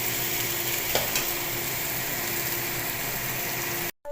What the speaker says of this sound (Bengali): এটা ভাজতে হবে লাল লাল করে